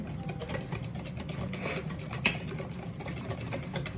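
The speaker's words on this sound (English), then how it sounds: "I think we may need to whisk this." A whisk works lumpy peach blueberry cobbler batter in a bowl, giving quiet, rapid scraping and tapping strokes with a soft clink partway through, fairly close and alone.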